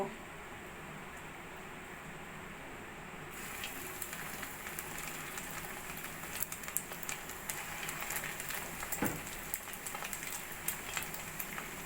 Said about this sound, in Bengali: এবার আমি মাছের ডিমের পকোড়াগুলো ভেজে নেব